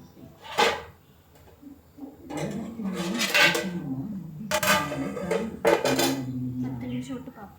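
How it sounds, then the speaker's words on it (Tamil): A metal lid is set onto a cooking pot of mutton in a home kitchen. Several clinks and clanks of metal on metal come at irregular moments, with people talking underneath. "ஒரு 10 நிமிஷம் மூடி போட்டு வேக வைக்குவோம்."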